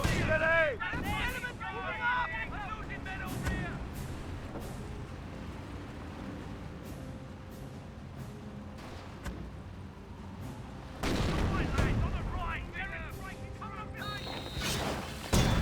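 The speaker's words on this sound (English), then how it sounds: "25-pounder barraging." A 25-pounder artillery barrage in Company of Heroes: repeated booming impacts and gunfire crackle over a cluttered battle soundscape, with a commentator talking throughout.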